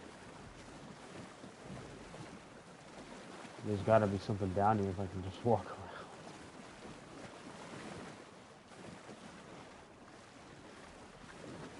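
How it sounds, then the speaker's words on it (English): A video game character wades through water, with a steady wash of splashing and surf-like water noise throughout, while someone talks briefly over it in the middle. "Okay, I can walk in the water apparently."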